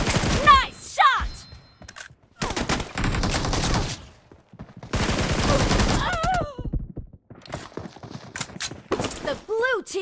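Gunfire in BGMI, the mobile battle royale game, during a Domination match: loud bursts of rapid shots come in clusters with short pauses, and game voices and effects cut in between.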